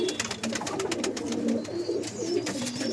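Pigeons of a tournament-champion breed coo softly in low rolling calls, close by, with faint chirps and rustling around them.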